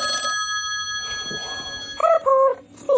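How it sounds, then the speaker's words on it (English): Mobile phone ringing, a loud, close electronic tone that sounds in short repeated bursts near the end, after a quieter stretch of background noise. "Oh, damn my phone."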